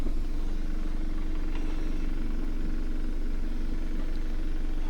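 Wood lathe spinning at 1500 rpm with a screw chuck mounted, a steady low motor hum and drone holding evenly throughout, close by, with a faint click at the end and no talk.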